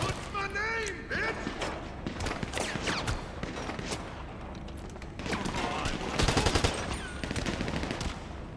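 Bursts of gunfire in GTA 5 Online during a solo heist shootout, rapid repeated shots and a loud volley near the end, mixed with game sounds and someone talking over them.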